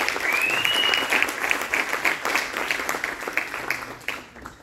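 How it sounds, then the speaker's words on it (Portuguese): A hall crowd gives a round of applause, loud and dense at first, then gradually thinning into scattered claps over several seconds. "gostaria de pedir mais uma salva de palmas"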